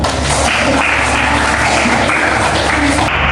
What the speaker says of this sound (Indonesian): Tepuk tangan kelompok 1.